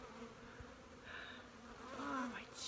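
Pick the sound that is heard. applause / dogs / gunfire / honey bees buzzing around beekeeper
honey bees buzzing around beekeeper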